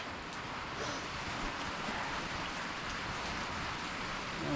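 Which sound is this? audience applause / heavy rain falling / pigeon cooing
heavy rain falling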